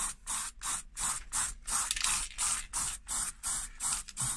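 Short repeated aerosol bursts spray paint onto a car steering wheel, a quick even rhythm of about ten close hissing releases with brief gaps between them.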